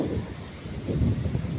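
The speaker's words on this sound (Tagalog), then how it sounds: "Lakas ng hangin, boy." Strong wind roars and buffets steadily during a night rainstorm, with low rumbling gusts building louder toward the end, no voices.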